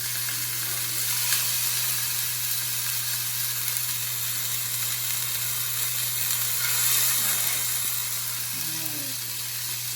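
Thawed chicken strips sizzle and pop in a hot frying pan, a steady, loud hiss running throughout with a constant low hum beneath it.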